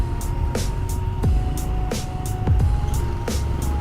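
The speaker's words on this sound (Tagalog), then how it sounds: "Katulad nito mga kabarkads, nagbi-build up ng traffic dito" Road traffic builds up along a narrow stretch of Diversion Road near Matina crossing in Davao City, with a steady engine drone, passing vehicles close by and a tonal hum with regular rhythmic ticks throughout.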